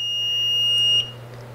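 A single steady electronic beep from a fire alarm panel signaling a ground fault trouble sounds loudly for about a second and then cuts off, leaving a low hum.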